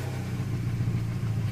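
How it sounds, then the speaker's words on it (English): A Peugeot 208 engine running steadily at idle, a close, even low hum with a constant rumble and no clear starter crank, loud and alone without talk. "I'm actually going to start the engine."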